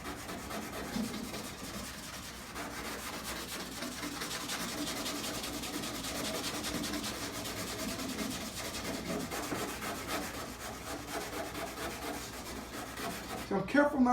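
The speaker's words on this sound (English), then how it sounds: "So first I'm going to use this scouring pad." A scouring pad scrubs old car paint whose clear coat has come off, making a continuous, fairly quiet abrasive rubbing that carries on steadily with small swells of pressure.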